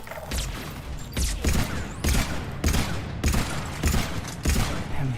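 Turrets firing in Mass Effect Legendary Edition, loud bursts of gunfire arriving roughly every second, each a sharp crack followed by a rumbling tail, under a dense, noisy battle background.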